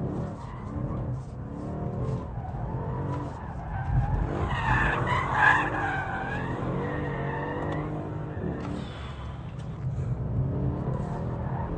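A car engine revs hard while tyres squeal and skid in long, wavering screeches, loud and close, the engine note rising and falling throughout.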